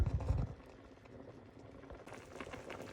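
Cut pork belly simmers in a pot of water on the stove, giving a soft, low bubbling and gentle churning close by, with a brief louder slosh at the start.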